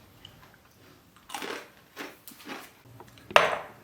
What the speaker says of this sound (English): Now this is what you call crunchy, fresh baguette fromage.